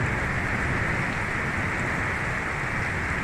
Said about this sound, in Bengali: মুষলধারে বৃষ্টিপাত আপনারা দেখতে পাচ্ছেন